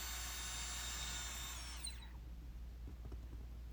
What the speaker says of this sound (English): That's where you want to drill first.